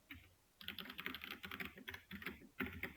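Close, quiet keystrokes on a computer keyboard come in a steady stream with short pauses, as someone types in the vim editor on Linux and presses keys to enter insert mode.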